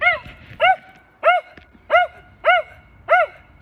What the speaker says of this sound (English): my dog's keeping noise